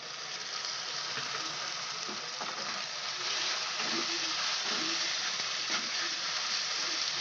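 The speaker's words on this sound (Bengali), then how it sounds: "ভালোভাবে কষিয়ে নিতে হবে যাতে আদা রসুনের কাঁচা গন্ধটা না বেরোয়।" Ginger, garlic and green chilli paste sizzles steadily in hot oil as it is sautéed for a yogurt chicken curry, a dense continuous frying hiss with faint stirring scrapes, close and without talk.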